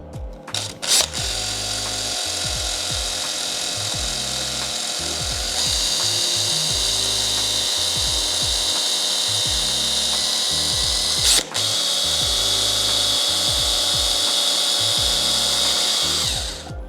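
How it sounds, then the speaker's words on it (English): A power drill boring a bit through a tough plastic part of an MJX Hyper Go 16208 RC car or GoPro case, whirring steadily and close with short stop-start bursts and a ratcheting rattle, alone without talk. "plastic's tougher than I thought, so we've got a drill bit in there."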